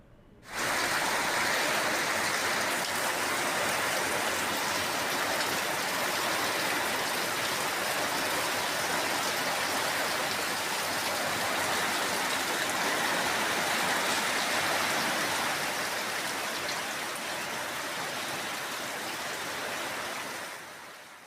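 Heavy torrential rain and rushing flood water during flash floods in Manipur make a steady, dense hiss and roar that starts abruptly and holds at constant loudness for about twenty seconds, then fades slightly, with no voices.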